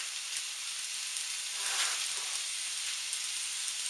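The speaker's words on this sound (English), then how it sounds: "So we're going to go ahead and cook up the meat, let it cook" Meat frying in a pan for steak mac and cheese, a steady soft crackling sizzle with brief bursts of louder spatter, fairly quiet and close, no voices.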